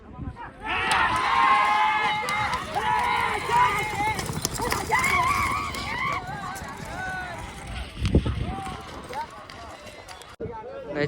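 Hooves clatter rapidly as bulls run past pulling a cart at a bullock cart race, with a crowd shouting and cheering loudly throughout.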